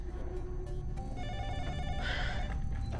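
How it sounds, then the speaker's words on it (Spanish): A landline telephone in an office rings steadily for about three seconds, a clear repeating electronic bell tone that grows brighter and louder near the end. "Está sonando el teléfono, voy a contestar."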